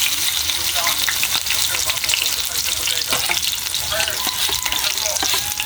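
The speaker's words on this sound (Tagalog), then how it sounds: "medyo tumatalsik po yung mantika" Squash fritters with shrimp toppings fry in hot oil, giving a loud, steady sizzle with frequent sharp crackles and splatters throughout.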